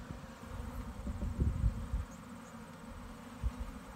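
Honeybees buzz in an open ten-frame hive, a dense, steady, low drone close to the listener that swells briefly now and then.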